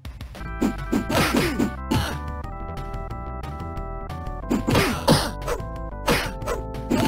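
Arcade fighting game Brute Force by Leland, with sharp whacks and thwacks from kicks and pipe strikes landing in quick bursts over a busy, loud game music track.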